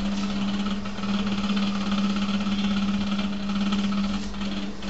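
A machine wheel driven through its gears at set RPM, a steady mechanical drone with a strong constant hum and faint vibration, unchanging and continuous with no voices.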